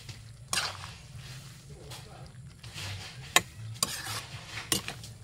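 Pancit noodles and cabbage being stir-fried in a pan: a low steady sizzle with several sharp scraping and tossing clatters from the spatula, fairly close.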